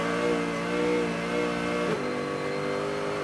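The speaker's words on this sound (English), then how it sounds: "listen to that wheel spin" A race car's engine rises in a high, harmonic whine as its wheels spin on a soaked track, then drops in pitch sharply near the end, loud and close with no speech.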